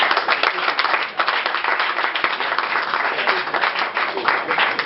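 A congregation at a French-language memorial church service applauds in sustained, dense clapping that stays loud and even throughout, with no break.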